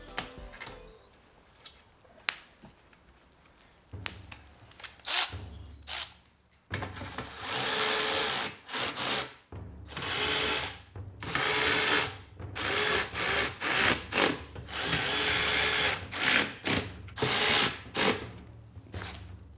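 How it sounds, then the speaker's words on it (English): Repeated bursts of a power tool tightening bolts on a radiator shroud in a Toyota Crown JZS171, short whirring and rattling runs with pauses between, close and loud, no talking. "So, gonna do these bolts up."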